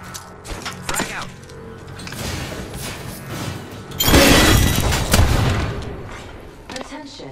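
A frag grenade detonating in Apex Legends amid a firefight, a loud broad blast about midway with a rumbling tail, surrounded by scattered gunshots and clicking game sounds, with voices heard over the action.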